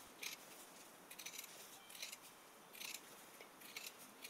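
Scissors trimming fabric seams and notching the corners of a laptop sleeve, a few quick snipping bursts repeating at an even pace, close and fairly faint, with no talking.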